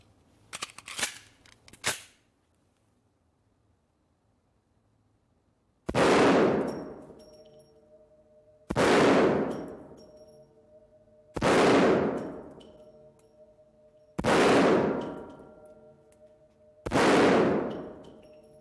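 A .50 caliber Desert Eagle pistol fired one-handed indoors: five loud, booming shots spaced about three seconds apart, each with a ringing decay, preceded by a few quick metallic clicks of loading.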